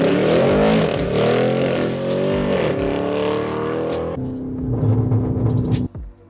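A Lamborghini Urus accelerates hard, its engine roaring loudly up through the revs with gear-change dips, then settling to a lower drone before cutting off abruptly.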